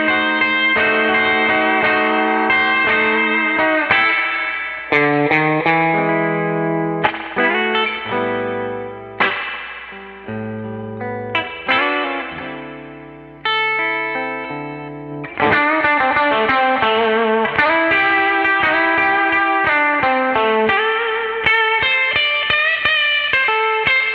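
Electric guitar chords and single notes ring out through an amp's built-in reverb, sustained tones decaying between strums, played alone.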